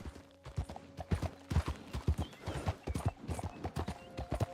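Horse hooves clip-clop steadily at a trot in Red Dead Redemption 2, a rhythmic run of close, sharp beats with a brief whinny and low game ambience underneath.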